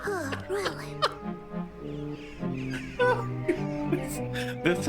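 Cartoonish bird clucks and chirps from the game Little Misfortune come in quick, uneven bursts, fairly close and clear, with a voice talking among them.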